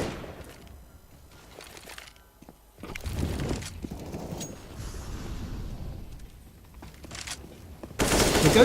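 Rapid rifle bursts and scattered gunshots from a CS:GO esports match play at a moderate distance in uneven clusters, with a louder burst of fire at the end.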